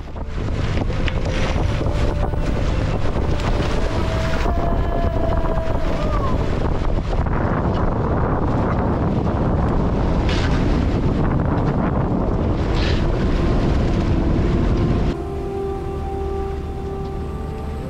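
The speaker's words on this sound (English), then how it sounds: "choppy waves did not make things any better being tossed around on deck while preparing the mainsail" Wind roars across the microphone on a sailboat deck in choppy seas near Grimsey, with waves slapping the hull and rigging noise, loud and continuous, easing slightly toward the end.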